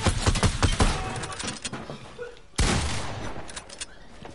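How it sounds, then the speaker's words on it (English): Gunfire in Fortnite, a loud burst of rapid shots that fades, followed by another sharp, sudden volley of shots and trailing reports. "Keep launching shots at these guys."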